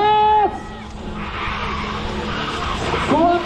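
Race car in a rat-race event in Varna, tires skidding and squealing as it accelerates hard from the start, loud and close, with a crowd shouting over it.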